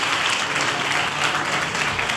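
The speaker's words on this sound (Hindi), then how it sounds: "अभी देखो ताली कैसे बज रही है" A church congregation claps together in a dense, continuous burst of applause, loud and sustained for about two seconds with no pause.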